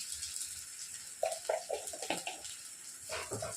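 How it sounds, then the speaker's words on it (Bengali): A small splash of water poured into a pan of samosa filling with ginger and cumin, a few short, soft close pours and trickles, faint and quiet. "সামান্য একটু জল দিয়ে দিচ্ছি।"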